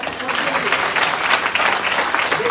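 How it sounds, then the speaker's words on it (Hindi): Loud, dense clapping from a seated audience of elders and women at a Shrimad Bhagwat Katha gathering in Dwarkadish Dham, a continuous roar of hands lasting a few seconds with faint voices mixed in. "एक बार जोरदार ताली मारो।"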